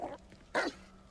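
A dog in the Hogwarts Legacy video game, an Animagus poacher in dog form, gives two short barks or yips, the second louder, with no talk over them.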